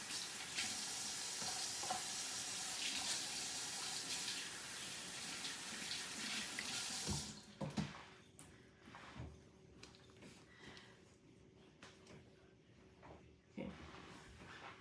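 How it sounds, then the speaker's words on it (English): Tap water runs steadily into a kitchen sink for hand washing, a continuous broadband rush for about seven seconds before it shuts off, leaving quieter kitchen clatter and small knocks. "Wash my hands real quick."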